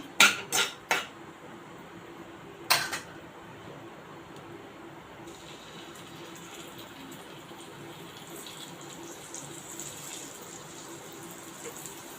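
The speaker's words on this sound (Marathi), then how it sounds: "आता आपण जी कारली भरलेली आहे ती याच्यामध्ये सोडूया" Stuffed bitter gourds going into a pan after curry leaves are sautéed: several sharp clinks and clatters at the start, one more knock, then a faint steady sizzle to the end.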